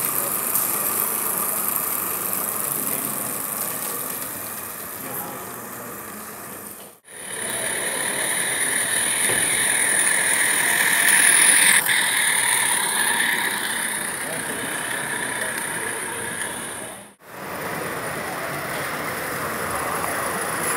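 A small steam locomotive on a small track runs steadily with a continuous chugging mechanical hum, broken by two brief dropouts, with faint background noise throughout.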